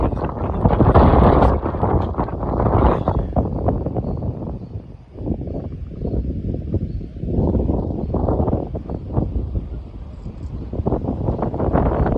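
Strong wind sweeps across the Illikkal Kallu hilltop in Kottayam, a loud, continuous roaring rush that buffets the microphone in uneven gusts.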